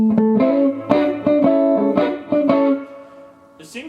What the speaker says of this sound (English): when you turn up the volume control all the way, it really gets a great, almost like a fuzz sound distortion to it